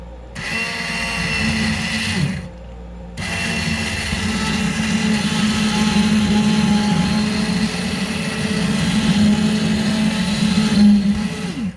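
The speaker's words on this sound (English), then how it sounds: "Got my immersion blender. It's going to be loud." A loud immersion blender whirs continuously through tomatoes with a steady motor hum, pausing briefly once before running again until the end.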